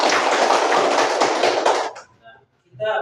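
A classroom of pupils claps hands together in a dense, loud burst of applause lasting about two seconds, then stops abruptly, followed by a brief voice.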